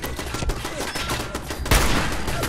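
Rapid gunfire in Fallout 4 as a turret is shot at through a fence, a dense run of loud close shots with one heavier blast near the end.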